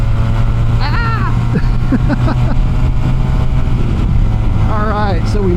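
A Honda Rebel 250 motorcycle pulls hard along a highway, its engine a steady close drone under wind rush, with a voice speaking briefly over the ride.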